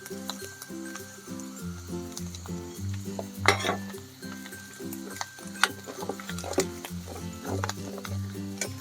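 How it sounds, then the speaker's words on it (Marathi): Malvani masala hitting a pan over a wood-fired chulha for chicken rassa, with a steady sizzle, clinks and scrapes of a spoon stirring, and faint rhythmic music running underneath throughout. "तर हा मालवणी मसाला मी याच्यामध्ये टाकून घेते"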